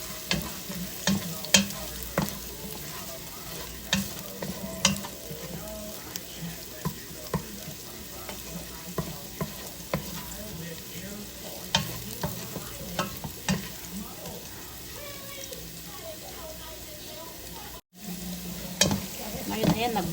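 Shrimp fry in a pan until browned, with a steady close sizzle and occasional scraping stirs throughout, and no talking.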